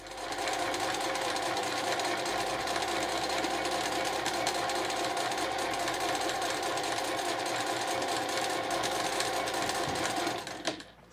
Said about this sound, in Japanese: そしたら際をそれぞれ縫います。